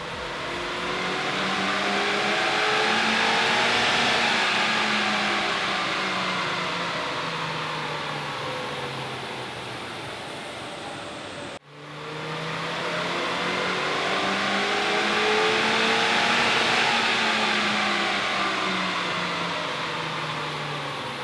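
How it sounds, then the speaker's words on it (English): A car engine strapped down on a dyno revs hard through two long sustained runs, rising steadily in pitch and roaring loudly, with a brief cut between them. "The car is strapped down and we're ready for our baseline run."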